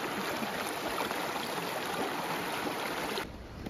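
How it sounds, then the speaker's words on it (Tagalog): Strong river current rushing steadily in a mountain stream near Navafria, Segovia, a dense continuous wash of flowing water that drops slightly in level near the end. "Ang lakas ng agos."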